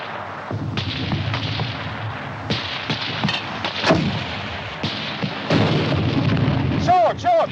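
Mortar and artillery fire in a World War II battle scene, repeated heavy booms and thuds of varying distance over continuous rumbling, with a few sharper cracks and brief shouted voices mixed in.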